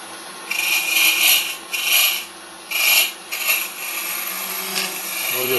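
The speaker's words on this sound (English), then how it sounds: "Turn the lathe back on. And using a very sharp skew," A wood lathe turns a workpiece while a very sharp skew chisel rounds its surface, giving a dry rasping hiss in several bursts of cutting separated by quieter spinning, close and fairly loud.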